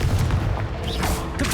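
Confringo blasting spell bursts in Hogwarts Legacy combat, loud close booms in quick succession amid a dense, continuous fight clatter, lasting under two seconds with no speech.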